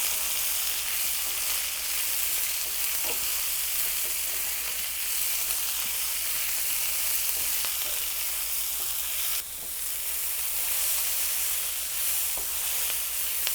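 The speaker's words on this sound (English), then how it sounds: "And then I'm going to add my sliced onion." Sliced onions fry in hot oil in a very hot pan with carom seeds, producing a steady, dense sizzle that continues throughout with faint stirring clicks.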